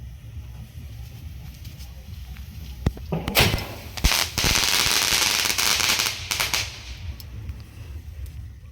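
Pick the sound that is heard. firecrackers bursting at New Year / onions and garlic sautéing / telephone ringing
firecrackers bursting at New Year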